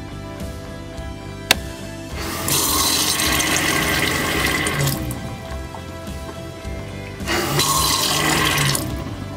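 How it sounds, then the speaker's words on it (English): A small water pump in a stealth camper van kicks on with a sharp click, then runs in two loud bursts as water flows into the sink, close by, with a quieter gap between them and no talking. "this is my water pump, and I'll actually turn that on and move right over to the sink right now"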